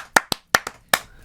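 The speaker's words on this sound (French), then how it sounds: "on ne peut pas commencer le coup d'œil dans le rétro sans applaudir le MVP de la saison 2021, monsieur Nikola Jokic." Five sharp hand claps sound close by in an uneven rhythm from one or two people, crisp and isolated, greeting the NBA 2021 season MVP.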